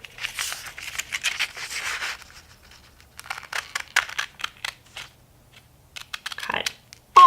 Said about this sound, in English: We're going to cut down this side.